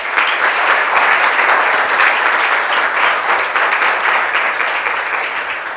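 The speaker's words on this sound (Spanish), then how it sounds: "Démosle un fuerte aplauso al Señor." Loud, sustained applause from a large church congregation, even and continuous throughout with no pauses.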